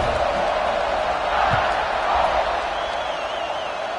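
A large football stadium crowd roars steadily before kickoff, a dense wash of cheering and noise that fills the space, with an announcer's voice talking over it.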